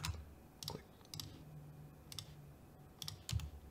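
Sharp mouse clicks while selecting twelve edges in Fusion 360 CAD software, several crisp clicks in uneven pairs and singles, quiet and close, with no talking.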